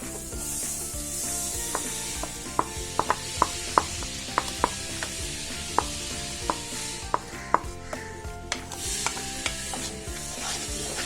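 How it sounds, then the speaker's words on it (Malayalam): Homemade condensed milk being stirred in a pan, a spoon tapping and scraping the pan in a steady run of sharp clicks over a continuous soft sizzle, close up with no voices. "ഇത് നമ്മൾ ഇളക്കിക്കൊണ്ടിരിക്കുകയായതുകൊണ്ട്"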